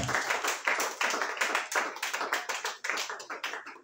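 A church congregation claps steadily in rhythm to acclaim the Lord during worship, many hands striking together in a quick, even beat that carries on throughout, close and lively.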